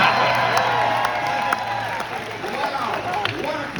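Crowd at a political rally in Sidney, Victoria, BC, cheering, clapping and whooping in a broad sustained roar, loud and close, with a speaker's voice over it.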